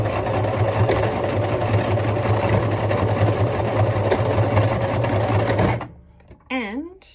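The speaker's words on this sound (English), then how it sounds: "now I'm going to go ahead and tack down the other end" A sewing machine runs steadily and loudly, tacking down elastic at the end of a casing on a cloth leading-edge pocket nappy, then stops abruptly near the end as a voice speaks.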